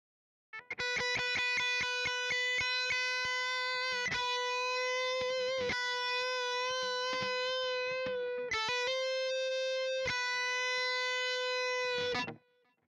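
Distorted electric guitar playing sustained notes with quarter-tone bends sliding slightly off pitch, with short picked notes at the start and brief gaps between held tones.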